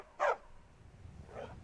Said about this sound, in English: Oh, I found a homeless puppy! I have a dog now!